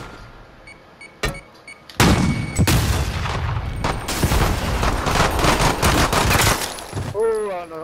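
Heavy gunfire from a video game firefight, shotgun buckshot blasts mixed with rapid shots, loud and dense for several seconds after a brief opening burst, with voices talking over it.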